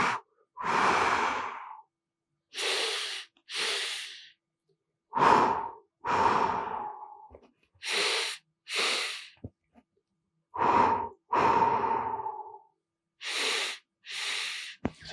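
Slow, quiet qigong breathing, with long airy exhales and inhales separated by pauses, a steady unhurried rhythm close to the microphone.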